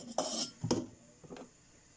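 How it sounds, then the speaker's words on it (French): A very small saucepan is lifted and handled in a home kitchen, with a few brief metallic clinks and scrapes close by, then a short knock before fading to quiet. "vous prenez une casserole, une toute petite casserole"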